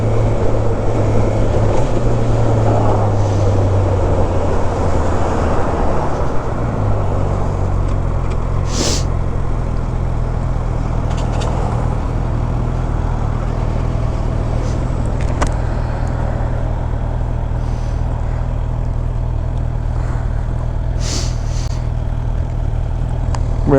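A motorcycle with a stock exhaust gives a steady low engine drone while riding, with wind rush and occasional passing traffic, continuous and fairly loud throughout.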